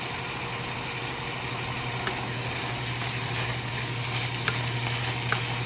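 Onions, garlic and pork for a veggie and pork lumpia filling fry in a pan with a dense, steady sizzle, a low hum beneath it and a few faint clicks.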